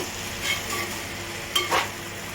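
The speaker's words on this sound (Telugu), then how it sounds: "చింతపండు గుజ్జేసాం కదా, బాగా కూరంతా కలపెట్టుకోవాలి" A spoon stirs curry through tamarind pulp in a pan, with soft scraping strokes over a low steady sizzle and two brief louder scrapes near the end. Nobody speaks.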